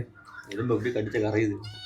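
A cat meows a few times close by during a traditional village country-chicken curry cook, its cries overlapping with people talking.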